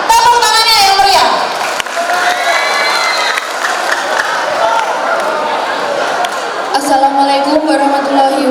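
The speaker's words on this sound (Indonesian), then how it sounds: "Tepuk tangannya yang meriah." Crowd of students cheering and applauding loudly at a high school student council candidates' event in Tegal Limo, a dense sustained roar of voices and clapping throughout, swelling again near the end.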